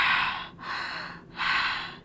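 A person's voice imitates a man's heavy breathing, three breathy, rasping pulls of air in a slow rhythm, close and fairly loud.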